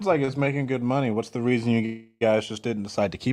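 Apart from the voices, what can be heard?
No distinct noise like a dog, phone or traffic.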